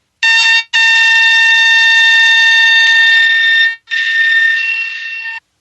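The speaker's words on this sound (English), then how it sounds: "As for the black ghost, the sound is much more, I'd say it's not very pleasing" A black ghost electric fish's electrical signal converted to sound: a harsh, steady electronic buzz like an alarm tone blares loudly in three long bursts with short gaps, the last one fading slightly.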